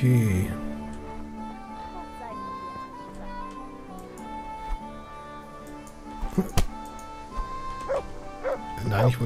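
Dog barking in the medieval game Kingdom Come: Deliverance, a few short yips and barks rising sharply near the end over a steady bed of game music and ambience, with a voice talking throughout.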